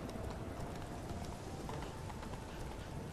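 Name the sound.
horse hooves clip-clopping in video game Witcher 3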